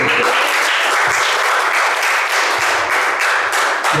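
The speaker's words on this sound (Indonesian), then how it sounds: "Tepuk tangan dulu." An audience at a teaching session claps together in a loud, steady burst of applause that fills the room for about four seconds, with no speech over it.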